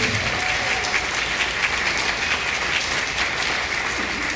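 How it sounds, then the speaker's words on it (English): An audience at a high school graduation ceremony gives sustained, even applause, dense clapping from a large crowd continuing throughout without pause. "I think that deserves another round of applause."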